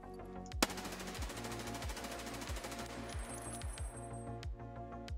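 A rapid burst of automatic gunfire in Escape from Tarkov during a standing recoil test, evenly spaced shots in a fast continuous string, with spent casings clinking and a fading tail, no talk.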